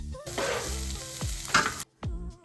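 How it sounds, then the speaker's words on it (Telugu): Onion, chilli, carrot and beans crackle loudly in hot oil in a kadai, a dense sizzle broken by metallic scrapes and clanks of stirring, cutting out briefly near the end before resuming. "అదే కడాయిలో ఇంకొంచెం ఆయిల్ తీసుకొని మనం కట్ చేసి పెట్టుకున్న వెజిటేబుల్స్ అన్నీ వేసుకోవాలి"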